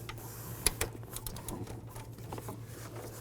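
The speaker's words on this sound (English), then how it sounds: "just go ahead and use your 3/8 ratchet" A 3/8 ratchet clicks as it turns the serpentine belt tensioner on a 1992-2000 Chevy Tahoe, giving a few close, sharp ticks and rattles over a steady low engine-bay hum.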